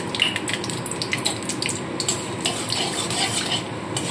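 Whole spices, a bay leaf, cloves, cinnamon and cardamom, fry in hot oil for chicken pulao, giving a busy crackling sizzle with light stirring clinks and scrapes, close and fairly steady.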